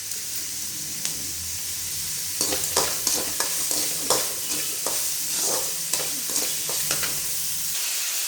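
Onion and green chillies sauté in a pan with a soft continuous sizzle. Several scraping stirs of a spatula stand out clearly, and no voice is heard.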